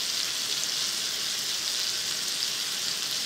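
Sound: chicken tenders frying in iron skillet

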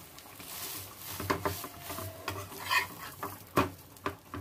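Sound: gravy boiling and sizzling in a pan

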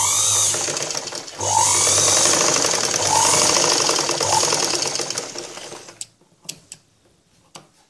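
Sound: sewing machine stitching a blouse

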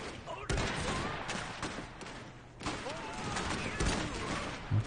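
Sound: pistol gunfire from engineers in the video game Iron Harvest

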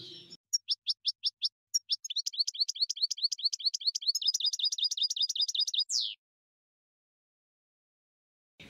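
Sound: goldfinch singing

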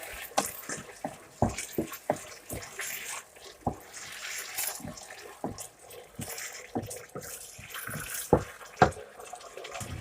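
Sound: water poured into pan while cooking seafood spaghetti

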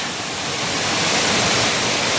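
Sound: Mettuguda waterfall at Seethampeta, high water flow

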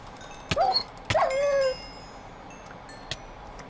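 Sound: dog in Minecraft-style video game

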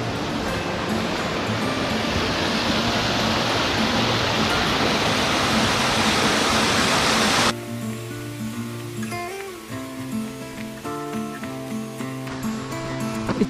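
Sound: waterfall on North Fork of Coyote Creek, Washington

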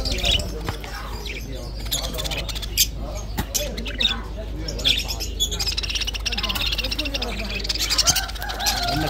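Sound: Dutch lovebirds squawking and chirping at a bird market

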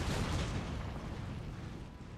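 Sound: artillery shots in video game Empire Total War

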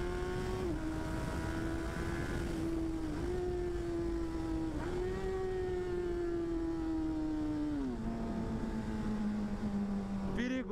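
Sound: motorcycle riding, engine noise

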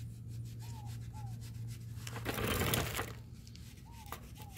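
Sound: steel wool scrubbing rust off GM brake parts

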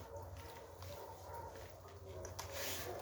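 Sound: Kangal dogs whimpering at feeding time

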